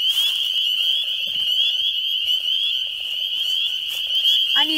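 Tree frogs trill without a break at night, a loud and unbroken high-pitched chorus with faint rustling beneath it.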